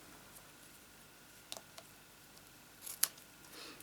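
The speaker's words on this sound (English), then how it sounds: "I'm going to cut my ribbon" Scissors snip through a ribbon in a few quiet, close cuts, a couple of faint clicks followed by one sharper snip, against a hushed room.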